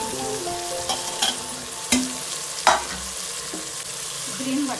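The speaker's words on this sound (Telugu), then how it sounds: "ఇదిగోండి టమాటాలు ఉల్లిపాయలు కూడా చక్కగా ఫ్రై అయిపోయి" Tomatoes, onions and other vegetables fry in a pressure cooker, with a steady sizzle and several sharp scrapes and clatters of a stirring spoon at irregular intervals, close and moderately loud, with no talking.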